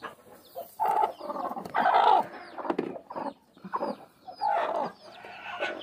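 Chickens cluck and squawk near at hand in a farmyard coop, a busy run of overlapping calls with no voices.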